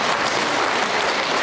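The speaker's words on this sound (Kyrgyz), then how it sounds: "Кол чаап коюңуздар." An audience in Osh or Jalal-Abad applauds at a charity foundation event honouring mothers, a dense, steady wash of many hands clapping close by with no pauses.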